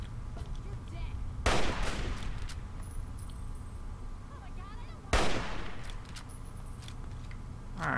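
Gunfire in the video game Fallout 3: two sharp, loud shots several seconds apart, each with a short trailing decay, over a steady low game-ambience hum.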